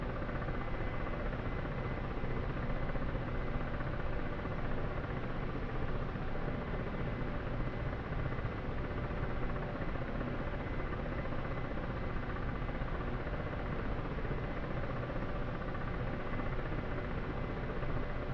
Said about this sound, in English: Wait a moment for the helicopter to stabilize